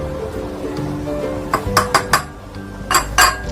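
Frozen tomatoes, rock hard after months in the freezer, knock together in a bowl with sharp, hollow clicks in two quick clusters after a quiet start.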